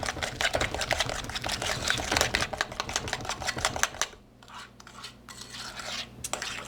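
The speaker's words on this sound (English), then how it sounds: "So now we're just going to beat the egg in." An egg being beaten by hand into creamed cookie dough in a bowl makes rapid, rhythmic clicking and scraping strokes, dense at first, then slower and sparser after a pause.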